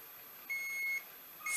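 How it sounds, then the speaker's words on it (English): A toy satellite from a 2014 Hess truck set emits thin electronic beeps: one steady tone of about half a second, a short pause, then another beep starting at the end, all faint and alone in quiet surroundings. "which has a beeping sound and annoys everybody"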